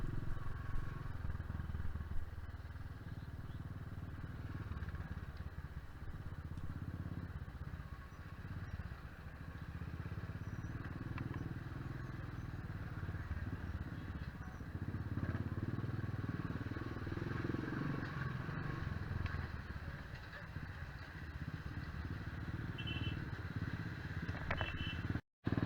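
Royal Enfield 500 Bullet motorcycle ridden through the Indian Himalayas, a steady loud engine drone with road rumble and wind running continuously, with a faint click near the end.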